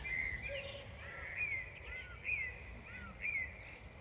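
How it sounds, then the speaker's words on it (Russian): Birds sing in the garden of the Khan's Palace in Bakhchisaray, with faint, repeated chirps and short warbling phrases returning every second or so over quiet outdoor background noise. "Птички-то как поют здесь, в Ханском дворце."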